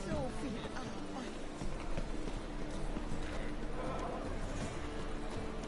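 Horse hooves clop steadily in The Witcher 3, set among in-game ambience and other game sounds, with someone talking over them in German.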